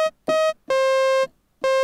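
Synthesizer sawtooth oscillator with zero attack and release and full sustain, playing a few abrupt on-off notes with hard starts and stops, buzzy and bright, close and alone.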